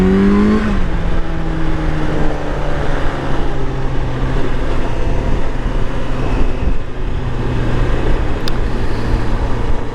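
Project motorcycle fitted with regulation mufflers revs up loud and close, with a sweeping engine tone that climbs, then settles into a steady, sustained drone with no talking.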